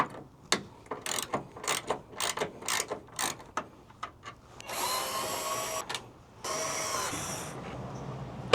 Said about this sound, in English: we're gonna need a 10mm wrench to remove this